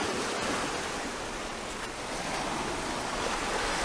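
Ocean waves surge and wash back off a seawall along Sandy Lane Bay, a steady broadband roar of surf and splashing backwash with some wind across the microphone, continuous throughout with no talk.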